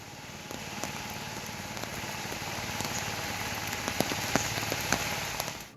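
Heavy monsoon rain pours steadily in Kolhapur district, a dense, even hiss of rainfall with scattered louder drops striking surfaces nearby, continuous throughout without voices.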